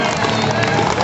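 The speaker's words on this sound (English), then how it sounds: "And give Martin a round of applause." Audience clapping at a trials bike demonstration, a brief, dense burst of applause and crowd noise heard up close with no pauses.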